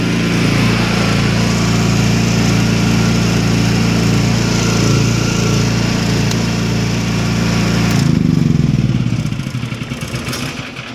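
Ducar silenced generator engine running smoothly, a loud close steady engine drone with even low-pitched hum for about eight seconds, then a brief swell and the note winding down and fading out as it shuts off.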